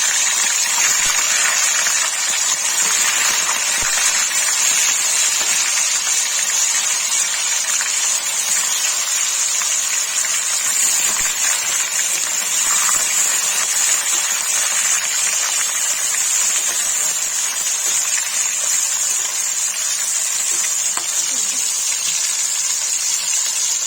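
Paneer sizzles in hot oil, a loud, constant hiss that runs unbroken for the whole stretch with no voices over it.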